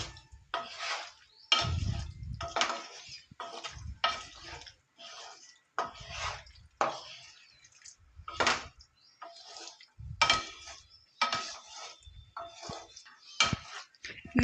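A spoon stirs spices through a frying pan of railway-style vepudu, scraping and clinking in a steady run of strokes, close and fairly loud, with short pauses between.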